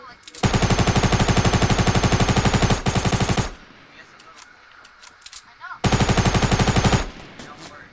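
Fortnite gunfire comes in two long, loud bursts of rapid automatic fire, separated by a quieter gap with scattered small game sounds.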